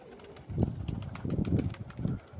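Pigeons cooing while pecking grain from a hand, several low soft coos in an irregular sequence, close by and alone without speech.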